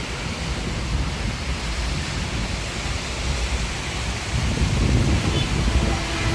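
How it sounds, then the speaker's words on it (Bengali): Heavy rain falls on the Chittagong–Dhaka highway route, a broad, steady roar of water that swells a little louder toward the end, with no one speaking. "অনেক বৃষ্টি হচ্ছে।"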